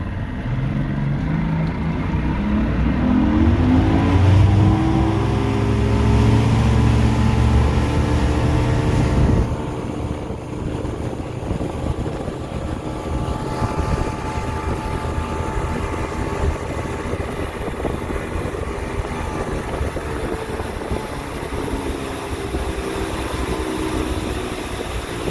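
Motorboat engine running on a lake, a steady close droning hum with a heavier, rougher stretch early on that settles into an even, smooth run.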